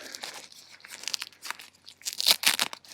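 Several quick rasping rips of velcro tabs pulled apart on a backpacking tent door, crackly bursts coming in uneven pulls, close and fairly loud.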